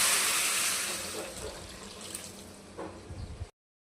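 Water poured into cooked masala in a cooking pan, a broadband splashing gush that fades over a few seconds, then a couple of soft clinks near the end, close and fairly loud.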